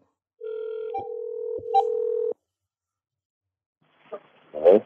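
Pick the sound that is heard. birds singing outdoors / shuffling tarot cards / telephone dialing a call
telephone dialing a call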